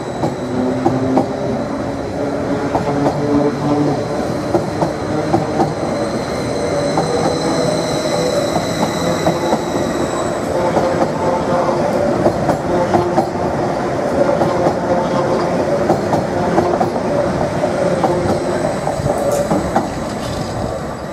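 Greater Anglia Class 745 unit 745-005 pulls away on a London Liverpool Street service, a steady rolling rumble with rhythmic wheel clatter, faint squeals and a high electric whine, close by and continuous with no speech.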